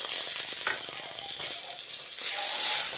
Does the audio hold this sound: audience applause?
no